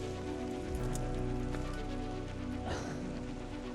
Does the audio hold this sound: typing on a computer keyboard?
no